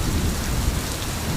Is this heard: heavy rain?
yes